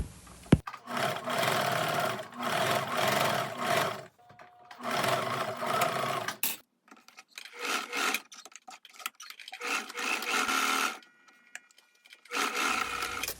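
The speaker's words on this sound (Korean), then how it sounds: "소매의 앞과 뒤를 중심선을 맞추어서 바느질을 합니다." Sewing machine stitching the sleeve seams of a sweat hooded jacket, running in loud steady whirring bursts of several seconds broken by short pauses with small clicks and handling noise, close and without talk.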